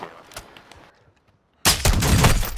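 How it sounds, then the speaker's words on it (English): A sudden loud burst of video game gunfire breaks in after a quiet stretch and keeps going to the end, close and dense, following faint earlier shots. "Taking effective fire."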